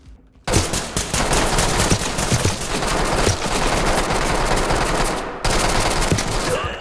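Sustained automatic gunfire in the tactical shooter Ready or Not, loud and continuous rapid bursts that run almost unbroken for several seconds, with a brief pause before firing resumes.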